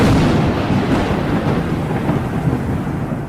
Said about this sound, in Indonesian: Rumah mewah Sarwendah disambar petir